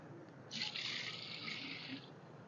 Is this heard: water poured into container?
yes